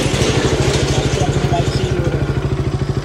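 A motorcycle engine runs close by with a steady, loud, rhythmic thumping pulse throughout, like a bike idling or ticking over at low revs.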